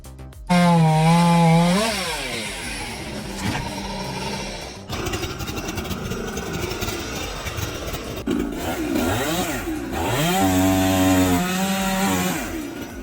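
Big chainsaw revving and cutting through a tree for firewood, a loud snarling engine rising and falling in pitch, bogging down under load in the middle then screaming up again near the end.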